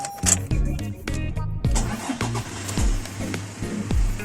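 A 2019 Toyota Hilux engine cranks and fires up on a replacement key, close and loud, with a few clicks before it settles into a steady idle.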